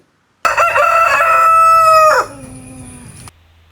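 A rooster crows once, loud and close, a long strained cock-a-doodle-doo that drops and trails off into silence.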